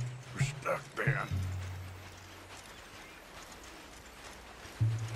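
Horse hooves clip-clop in Red Dead Redemption 2, with a few brief, moderately close hoof steps at the start and again near the end, under a low steady rumble and a voice speaking.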